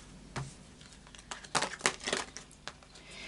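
Crisp papery rustles and soft slaps as tarot cards are shuffled close by, a few louder bursts clustered in the middle, no talking.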